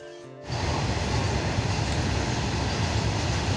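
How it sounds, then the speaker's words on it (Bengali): A train rolls past at a railway crossing, a loud, steady rumble and clatter that swells in after half a second and continues without a break. "দুটো ট্রেন গেল"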